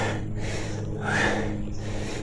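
A cyclist climbing a steep 12% grade toward Kaybiang Tunnel in Ternate, Cavite breathes heavily and raggedly in long gasping pulls, close to the microphone, over a steady low hum of wind or road noise.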